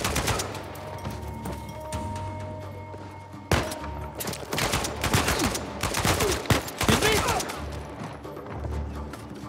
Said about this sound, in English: Running and gunning. Shooting these people in the face.